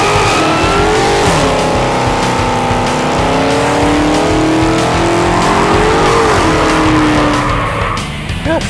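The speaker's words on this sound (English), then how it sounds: "now we're gonna send off this poor 2015 Charger with an epic set of" A 2015 Dodge Charger Hellcat rips a sustained burnout, its supercharged engine howling at high revs with rising and falling pitch over continuous loud tire squeal and roar for the whole stretch.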